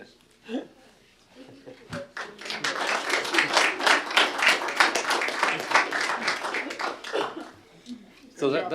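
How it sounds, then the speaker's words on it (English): Brief clapping from a small audience at a city council meeting, rising after a few seconds of quiet murmur and sharp knocks, fairly close and sustained for several seconds with voices around it. "Good job, Mr. Zabel, sliding in another opportunity for a round of applause"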